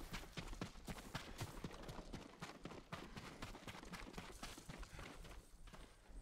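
Horse hooves clip-clopping at a quick, steady gait in the video game Ghost of Tsushima, a dense run of close, rhythmic hoofbeats over an ambient bed, with no talk.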